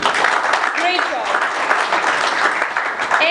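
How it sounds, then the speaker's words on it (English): An audience claps together at a student talent hunt event, a dense, even burst of applause lasting a few seconds while a voice speaks over it. "a big round of applause for everyone here"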